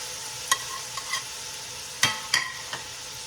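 Spices frying for a Pakistani-style vegetable biryani, a faint sizzle with a few sharp scraping stirs of a spoon in the pan, close and without talk.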